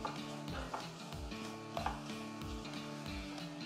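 Celery and vegetables stir and sizzle in a roux for Creole gumbo, a quiet steady frying hiss with soft periodic scraping and stirring strokes, heard faintly without talk.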